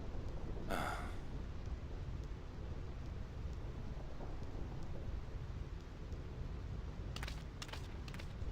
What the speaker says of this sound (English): This storm never stops.